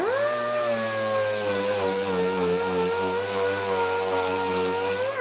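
A large compressor drones steadily at a distance, a constant low mechanical hum with a faint rising whine, continuous and unbroken.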